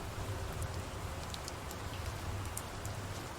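Rain falling across a video game map, a steady even hiss of drops with faint scattered ticks, moderately quiet and continuous with no voices.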